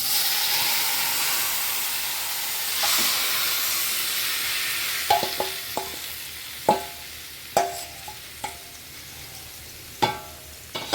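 Spices tempering in a little hot oil for mutton, a steady loud sizzle and hiss throughout, later punctuated by several sharp clinks of a utensil stirring in the pan.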